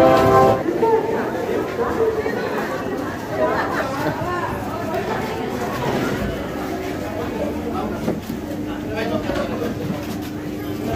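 Crowded railway platform at a Kolkata station with people waiting for a train to Gangasagar Mela, dense chatter of many voices with rumbling station noise and a brief horn-like tone under the crowd.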